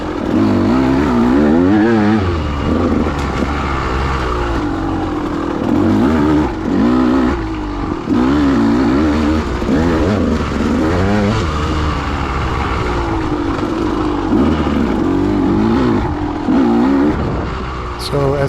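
A KTM 200 XC-W two-stroke dirt bike ridden fast on wooded singletrack, its engine loud and close, revving up and down through the gears and turns, with a rider talking over it.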